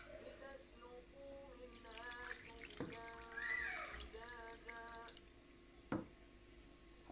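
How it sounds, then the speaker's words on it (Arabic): Warm milk poured into a cooking pot while making Egyptian baked rice, a soft trickling, dripping liquid stream with low murmuring voices underneath and a sharp clink near the end. "هنيجي دلوقتي بقى نحط اللبن"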